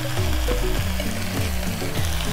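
Chicken tikka sizzles in oil in a pan, a steady close frying crackle with soft rhythmic stirring scrapes throughout.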